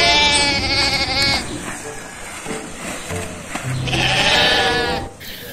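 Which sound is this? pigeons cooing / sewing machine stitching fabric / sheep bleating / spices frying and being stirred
sheep bleating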